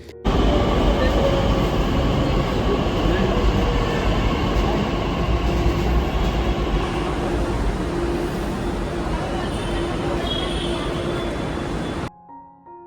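A Pune metro train from Ramwadi rumbles steadily along the rails, a loud continuous roar with a faint high whine, fading slightly before cutting off near the end.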